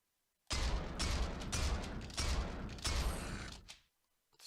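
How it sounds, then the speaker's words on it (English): Gunfire in the video game ArachnaZ as a nest is shot down, heard as several rapid bursts of firing in close succession for about three seconds before stopping abruptly. "So now when I shoot it, it gets updated."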